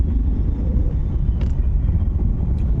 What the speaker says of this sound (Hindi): हमारी गाड़ी निकल चुकी है